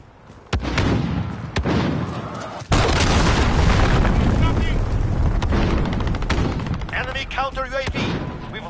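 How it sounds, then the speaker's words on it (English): Enemy cruise missile strike in a military strategy video game: a loud, sustained roar of blasts and booms with sharp impacts, a sudden heavier surge midway, then rattling detonations, with game voices calling out over the din. "Enemy cruise missile."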